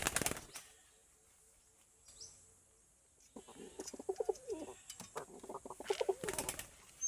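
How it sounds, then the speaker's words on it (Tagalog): Pigeons coo softly in low, repeated throaty calls, with bursts of wing flapping and fluttering scattered through, faint and close by in a quiet setting. "Hindi na makakalipad ito mga kalapatids."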